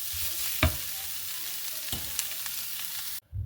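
Mashed potato and fish being mixed together for fish cutlets, with a steady hiss throughout and two distinct spoon knocks, one early and one midway, then a brief drop to near silence at the end.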